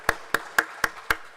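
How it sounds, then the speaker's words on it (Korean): Five sharp, evenly spaced hand claps ring out in a quick steady rhythm at a church event, each crisp clap standing alone with no voices. "박수로 한번 맞아주시길 바랍니다."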